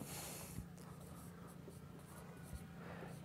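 A pen scratches across paper while a math solution is written out, with soft, faint, irregular strokes close by and no speech.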